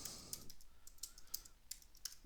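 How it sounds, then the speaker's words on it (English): Quiet typing on a computer keyboard during Java programming work, with a quick run of light clicking keystrokes at close range and no talking. "Let's go ahead and do a little bit of typing down here"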